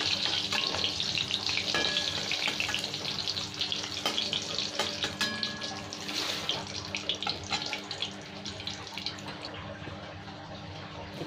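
Dry red chillies and bay leaves crackle in very hot oil, a steady frying hiss with sharp pops and clinks nearby, fading slightly toward the end, no voices heard.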